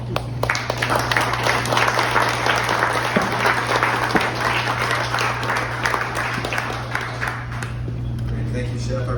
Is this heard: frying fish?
no